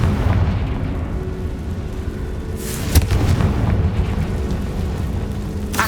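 Confringo spell explosions go off in the Hogwarts Legacy video game, a rolling low rumble punctuated by a sharp, bright blast near the middle, with booming energy continuing loudly afterward.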